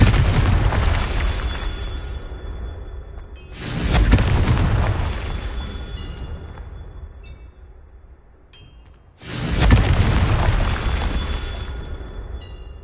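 Confringo fire spell blasts in Hogwarts Legacy on PS5: two loud booming explosions, one near four seconds and another near nine, each erupting suddenly and rumbling down into a long fading roar.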